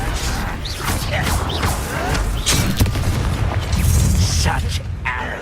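A Confringo blasting spell fires in the Hogwarts Legacy video game, giving a loud, close, rumbling boom with crackling debris, layered with game sound effects and character voices.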